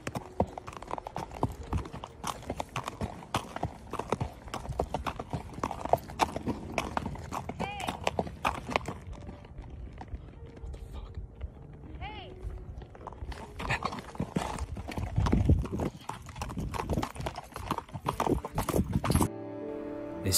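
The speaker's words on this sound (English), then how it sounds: "This man was riding on his horse when he heard something strange." Hooves of a horse being ridden clip-clop in a steady walking rhythm close by for most of the stretch, with a brief quieter gap midway, and a voice speaking over the hoofbeats.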